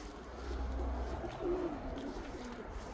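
Racing pigeons coo softly at their loft, a faint low murmuring call over a quiet outdoor background.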